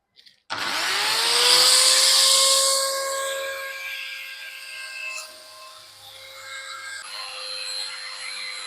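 A power tool whines as it enlarges the finger holes in a buffalo horn ring, spinning up to a loud, steady tonal drone that shifts in pitch and strength under load, heard close with no talking.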